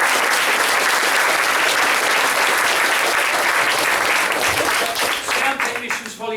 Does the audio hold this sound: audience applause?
yes